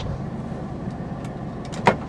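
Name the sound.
Suzuki Cultus 1000cc car engine idling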